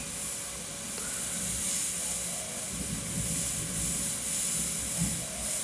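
An airbrush sprays paint onto a Terminator endoskeleton artwork, giving a steady, close airy hiss that carries unbroken throughout with a faint constant tone underneath and no talking.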